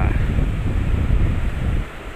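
Strong wind and rough sea waves at a beach in Ibajay, a continuous loud roaring wash with heavy wind buffeting the microphone.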